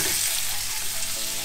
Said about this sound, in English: I've got some red onions and some white onions. Let's give them a little bit of a fry.